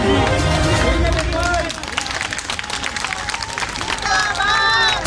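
A large crowd at an outdoor political rally in Chhatarpur claps and cheers loudly, with a dense wash of applause and babble throughout and a voice amplified over a loudspeaker.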